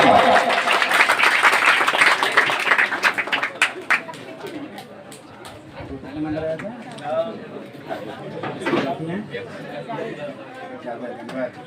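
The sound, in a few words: loud applause from students at award ceremony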